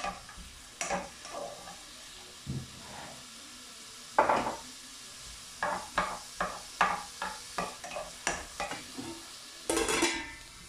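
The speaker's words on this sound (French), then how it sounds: "je mets mes oignons. Je vais laisser revenir tranquillement." Sliced onions sizzling in hot sunflower oil, with a soft steady frying hiss under a string of scraping and clattering stirs in the pan, no voices.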